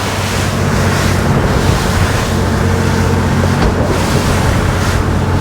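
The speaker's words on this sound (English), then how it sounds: "That's a proper surf wave." Boat crossing a steep surf wave at sea, a loud constant roar of wind and rushing water with engine drone throughout, no voices.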